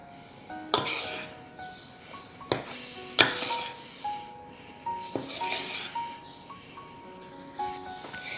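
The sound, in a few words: stirring vanilla sponge cake batter in a bowl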